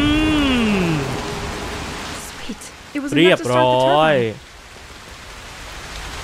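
Rain summoned in the game Broken Pieces makes a loud, steady hiss that fades near the end, with someone briefly speaking over it partway through.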